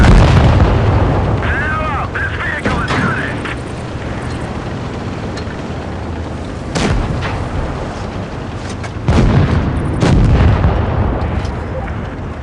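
Tank battle in a video game: heavy cannon booms and explosions crack out at intervals over a constant rumbling battlefield din, with brief whistling effects and a commentator's voice running along beneath.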